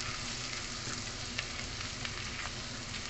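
Chopped onion frying and browning in a hot pan, with a steady, dense sizzle throughout and small crackles and pops rising out of it, heard close up with no talking.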